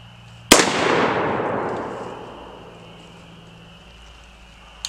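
One loud rifle shot of a 62 grain green tip bullet fired into a washing machine cracks sharply, then rings out in a long, slowly decaying echo.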